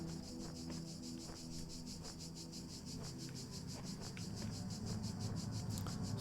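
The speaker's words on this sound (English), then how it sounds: "we can tell that it's summer because we hear the cicadas singing" A continuous pulsing drone of summer cicadas in The Talos Principle buzzes in the background, high and rhythmic, with faint low hum and scattered small clicks beneath.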